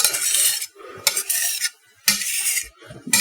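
A spatula scrapes lemon cookie filling from a bowl in three short, close, gritty bursts separated by brief pauses.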